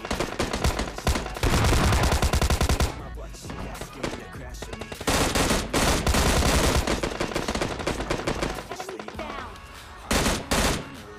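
Bursts of automatic gunfire from the PUBG Mobile Lite video game crackle loudly in rapid volleys separated by short pauses, with someone talking faintly underneath.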